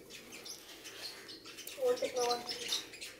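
A caged sunbird gives short high chirps and tweets, growing busier toward the end, under a man's speech.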